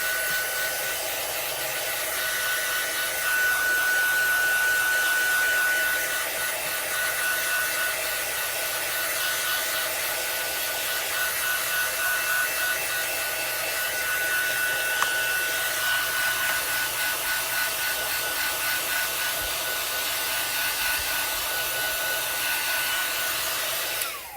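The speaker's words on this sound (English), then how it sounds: "all I have to do is just take the heat tool to it" A handheld heat tool blows continuously over marker-colored mountain and river artwork, a steady loud fan-like whoosh with a thin high whine, running alone without pause.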